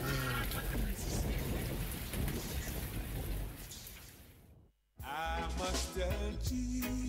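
Steady rain pours down with rumbling thunder through a stormy stretch, briefly cutting to near silence before the downpour resumes, loud and close throughout.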